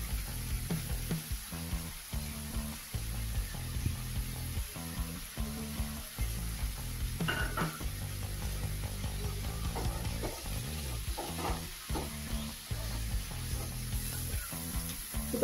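Mint, coriander and curry leaves sauté in a pan over a low flame, giving a continuous close sizzle with soft rhythmic stirring scrapes throughout.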